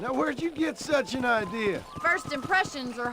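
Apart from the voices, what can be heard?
None of the usual background noises is heard.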